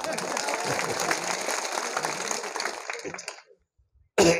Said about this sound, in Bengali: খুশি হলে তালি একটা জোরে দেন না